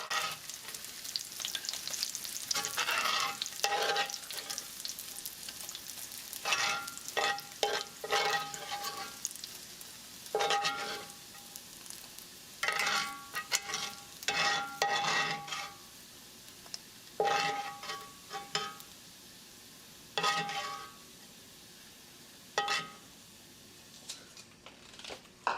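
Bacon for a shrimp and chili rice bowl sizzles in a hot pan, with intermittent bursts of crackling and utensil scraping as the strips are moved and lifted out, close and fairly loud, with no voices.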